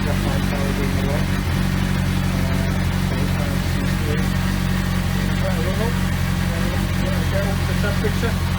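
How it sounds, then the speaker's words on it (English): A Bandit motorcycle engine idles steadily and close, a low continuous rumble that holds even throughout with no revving. "Right, got the engine running."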